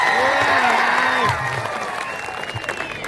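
A crowd at a village kabaddi tournament claps for the local MLA. Loud applause and cheering fill the opening stretch over a tonal voice, then fade into a softer, scattered patter.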